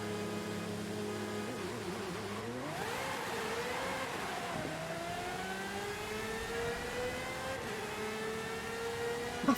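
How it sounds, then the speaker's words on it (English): Engines of four video-game cars, including a Ferrari and a Pagani, rev and climb through the gears in a drag race, a loud continuous whine with pitch sweeps and gear-change dips, and no talking. "Starting then by drag racing the 4 vehicles."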